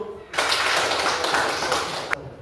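Applause from a classroom of students breaks out suddenly and continues steadily for about two seconds, a dense close clatter of clapping hands that ends abruptly.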